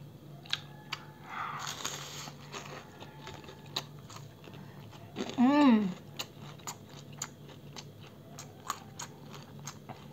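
Close-up crunching and chewing on a crispy fried shrimp skewer, with repeated sharp crackles and bites spread evenly, plus a brief voiced sound in the middle.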